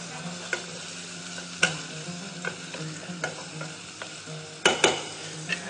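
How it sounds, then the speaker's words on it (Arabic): Onions frying in oil in a pot, a steady close sizzle broken by repeated sharp knocks and scrapes of a ladle stirring, with a cluster of louder clanks near the end. "باش نقليو البصل في وسطه"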